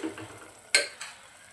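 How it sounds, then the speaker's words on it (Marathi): Mutton being stirred and sautéed in masala inside a pressure cooker, a few soft scraping strokes and a brief sizzle with a sharper clink partway through, close and short. "मटण छान आपल्याला मसाल्यामध्ये 5 मिनिटंभर असं परतून घ्यायचं आहे."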